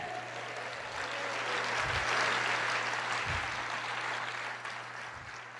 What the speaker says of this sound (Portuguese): Aplauda o Senhor, diga: eu creio